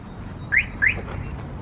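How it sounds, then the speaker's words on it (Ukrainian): Outdoors in spring, a bird gives two quick bright chirps in succession, moderately near, over a low steady background rumble with no talking. "Ви чуєте пташок?"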